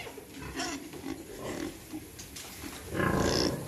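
A herd of pigs in a farm pen grunts and squeals, with several overlapping oinks and snorts rising to a louder burst of squealing near the end, close by and without speech.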